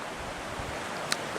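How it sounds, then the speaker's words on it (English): Blodgett Creek, a mountain creek where it enters the Bitterroot River, gives a steady broadband rush of flowing water mixed with wind buffeting the microphone, plus one brief sharp click near the end. "So here we have Blodgett Creek that we saw the other week entering the"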